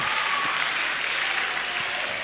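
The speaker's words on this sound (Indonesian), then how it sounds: "Boleh tepuk tangan dulu dong buat teman-teman kita." Steady applause from an audience at a health talk, a dense even wash of many hands clapping throughout with no voices standing out.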